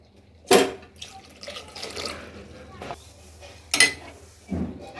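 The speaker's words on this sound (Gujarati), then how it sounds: "હવે તમારે જે પ્રમાણે દાળ ઘાટી અથવા આછી રાખી હોય તે પ્રમાણે તમે પાણી ઉમેરી શકો છો" Water is poured into a pot of cooked toor dal for a Gujarati ladva dal, two brief splashy pours standing out with quieter liquid sounds and a speaking voice in between.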